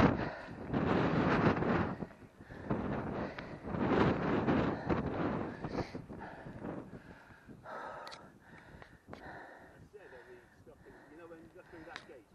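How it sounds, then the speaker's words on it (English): Strong gusts of wind buffet the microphone on a hillside walk at Sutton Bank, loud rumbling bursts that fade, with people talking quietly as the wind eases. "It's this wind."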